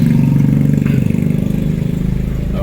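A car or motorbike engine idling close by, a loud, steady low throb with rhythmic pulsing that settles slightly partway through.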